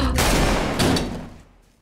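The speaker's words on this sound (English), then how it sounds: "Did you not hear the gunshot?" Gunfire from a Korean action noir TV series: a sharp, loud report and a second blast close behind, then a quick decay into near silence.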